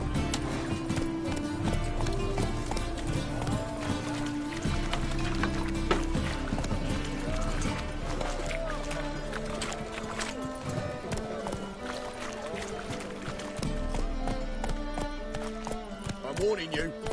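Roach, a horse in The Witcher 3, gallops with a steady clip-clop of hooves under a busy bed of game music and ambience, while someone talks over it at times.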